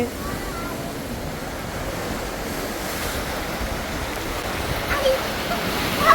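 Roaring surf and sea waves churning on a rocky Andaman beach under heavy wind buffeting the microphone, a constant rushing wash with a few louder gusts near the end.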